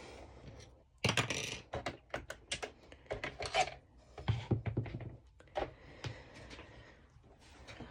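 A sewing machine stitches fabric for a twisted-knot halter crop top, giving close, uneven bursts of rapid mechanical clatter with short pauses between runs, with no talking.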